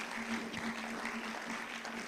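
Short spell of audience clapping at an investment quiz competition final, moderately faint and scattered, with a steady low hum underneath.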